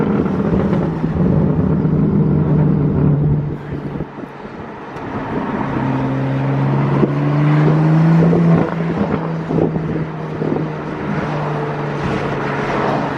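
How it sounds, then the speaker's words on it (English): Tuned BMW F80 M3 on a stock TS tune, its exhaust rumbling and burbling under acceleration from inside the car, with rising engine tones and intermittent crackles over wind noise. "that's the perfect amount of burbles too"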